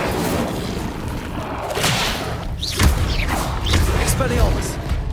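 Incendio fire spell being cast in Hogwarts Legacy on PS5: whooshing magical blasts and low booming impacts spread across several seconds of busy game combat, with sharper hits near the middle and end.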